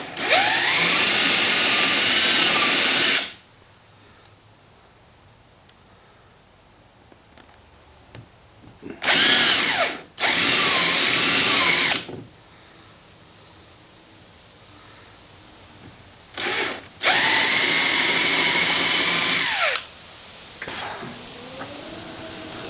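Power drill boring holes into the body of a new Polaris Ranger UTV, heard as three loud, close whining bursts of a few seconds each, separated by quieter pauses with faint handling noises.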